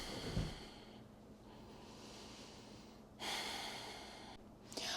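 Deep breaths during a yoga session: slow, breathy inhales and exhales close by, a soft snort at the start and a longer airy breath in the middle, with no talking.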